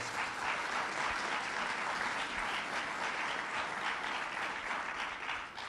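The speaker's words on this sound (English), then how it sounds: "let's give them a round of applause" An audience gives a steady round of applause at a gubernatorial event: a continuous wash of many hands clapping, evenly sustained and somewhat distant and soft, tapering slightly near the end.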